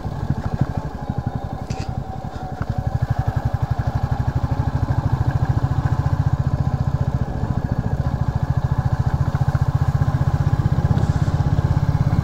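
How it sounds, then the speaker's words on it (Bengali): A motorcycle rides along a dirt track between fields of kash grass on a trip from Kolkata to Belpahari. Its engine drones loud and steady with a rapid pulsing throb, heard close from the rider's position. "এক অনবদ্য অনুভূতি বাইক চালিয়ে যাওয়ার।"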